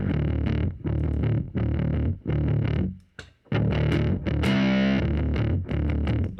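A heavily distorted bass guitar plays a chugging prog metal riff in short repeated bursts with brief gaps, then holds a sustained, effects-laden note, loud and up close with no voices.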